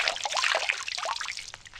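Water trickles and dribbles steadily from a melting snowman in a front yard, a continuous bright splashing stream with no voices.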